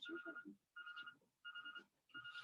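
A mobile phone rings in a classroom during a maths lesson, a faint repeating electronic ringtone in three or four short bursts with brief gaps, heard alone with no talk.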